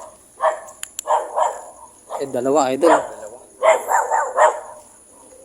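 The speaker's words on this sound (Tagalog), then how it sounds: "ingat lang tayo kasi may aso." A dog barks in short bursts a short distance away in a cemetery while people talk quietly nearby, with a steady insect hum in the background.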